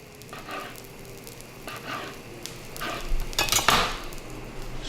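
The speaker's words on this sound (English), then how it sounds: "I'm gonna cut my mozzarella," A knife slices mozzarella into strips with a few spaced cutting strokes, then a louder clatter of utensils near the end, heard close up without speech.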